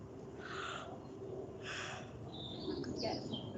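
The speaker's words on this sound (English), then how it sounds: "I think there's a blackbird actually" Outdoors, a blackbird or robin gives several short, thin calls over steady background noise, moderately close but not loud, with no talking during the calls.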